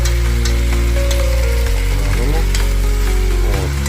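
Onion, carrot, sweet bell pepper and chopped potato frying together for bograch, heard as a loud, dense, continuous sizzle with occasional stirring clatter, close, over a strong low hum, with no voices.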